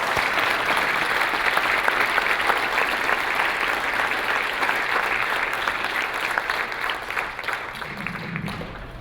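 Sustained audience applause at a lifetime achievement award ceremony, a thick, even wash of many hands clapping that holds steady for several seconds before tapering slightly at the end.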